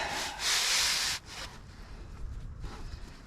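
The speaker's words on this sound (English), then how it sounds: "I am working on cleaning my CV bolts" CV bolts from a Mendeola 2D flange drive seal job being rubbed clean, a loud steady scrubbing hiss at first that drops to softer, uneven rubbing strokes.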